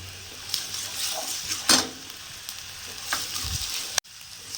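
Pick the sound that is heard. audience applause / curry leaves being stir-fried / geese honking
curry leaves being stir-fried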